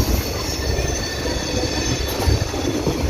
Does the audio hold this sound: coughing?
no